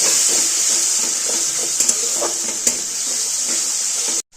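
Water poured into a frying spiced mixture in a pan sets off a loud, steady sizzling hiss with a few faint stirring clicks, then cuts off abruptly near the end.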